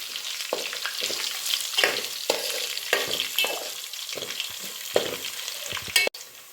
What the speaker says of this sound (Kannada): ಮಿಕ್ಸ್ ಮಾಡ್ಕೊಂಬಿಡೋಣ